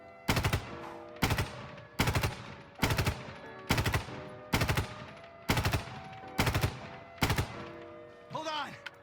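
A scoped gun in a video game fires controlled bursts: eight loud, evenly spaced bursts of a few rapid shots each, followed by a short rising and falling whine.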